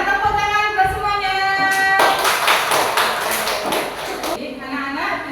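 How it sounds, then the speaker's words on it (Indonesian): Classroom of elementary pupils applauding together, a dense burst of clapping in the middle few seconds that rises over a tonal background and then fades out. "Oke, sekarang tepuk tangan buat semuanya."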